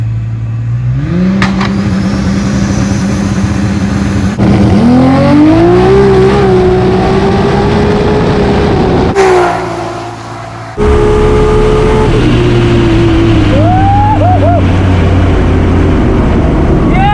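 A drag racing car makes a quarter-mile pass on a timed personal-best run near 7.7 seconds, with a loud, sustained engine roar that climbs in pitch through each gear change. A brief dip comes after the shifts, then a steady high-pitched drone continues.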